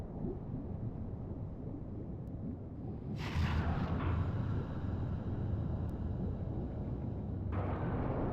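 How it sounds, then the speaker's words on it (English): A giant torpedo explosion in the video game Ghost Trick, deep under the sea: a loud, sustained low rumble that swells abruptly and roars on for several seconds, with no voices. "so that's the cause of that giant explosion"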